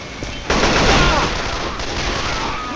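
A loud, dense burst of rapid gunfire from Left 4 Dead 2 erupts and sustains, harsh and close, with no talking over it.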